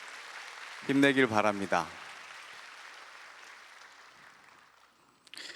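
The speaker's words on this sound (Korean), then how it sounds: "우리 1, 2청을 위해서 한번 박수 한번 할까요?" A church congregation applauds for its youth groups: a soft wash of clapping sits beneath a brief spoken line and lingers faintly afterward before a small rise at the end.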